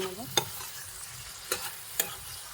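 Vegetables with soy sauce and tomato sauce stirred in a frying pan, a soft steady sizzle broken by three sharp scraping strokes of the spatula, close and fairly quiet with no talking.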